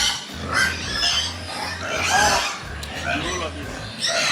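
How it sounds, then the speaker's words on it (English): Pigs on a large farm in Delta grunt and oink close by, several snorts and squeals scattered over a steady low hum, with people talking over them. "Look at this pig."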